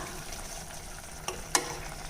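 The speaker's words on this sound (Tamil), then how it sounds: "இது நல்லா கலந்து விட்டுறலாம்." A spoon scrapes and stirs rice flour batter for appam in a pot over a steady bubbling sizzle, with a couple of sharp clinks against the side.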